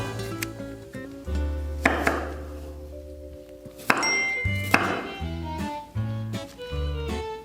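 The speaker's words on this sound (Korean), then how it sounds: "제일 먼저 양파 반쪽을 썰어 볼게요." A knife chops half an onion on a board, giving a steady series of close, crisp thunks and clicks, with soft music running underneath.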